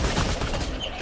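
Shotgun fire in the video game Fortnite, dense and loud, with blasts merging into a continuous burst of gunfire for about a second.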